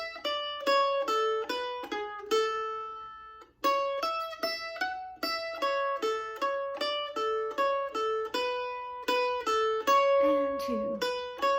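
The break of the fiddle tune The Fox played slowly on a plucked string instrument: a steady, even run of bright picked notes with a brief pause partway, close and clear, with no voices over it.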